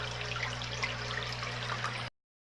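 Aquarium aeration in a 75-gallon cichlid tank, air bubbles rising and popped by an agitator, giving a steady close bubbling and trickling wash over a low constant pump hum, with no talking.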